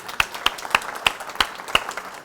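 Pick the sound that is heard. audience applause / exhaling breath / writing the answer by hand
audience applause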